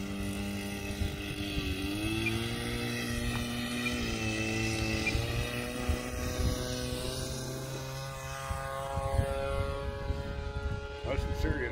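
Small airplane engine idling and rumbling steadily at close range while taxiing in strong wind, a continuous droning hum with rising and falling harmonics, with people talking over it throughout.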